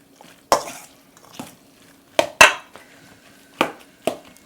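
A spoon mixes a stuffing of cooked quinoa, lentils, onion, garlic and tomatoes in a bowl, making several sharp, close scraping and clacking strokes separated by brief quiet gaps.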